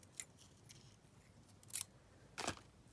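Scissors trim paper for decoupaged index cards in a quiet room: a few distinct crisp snips, with two sharper cuts near the end.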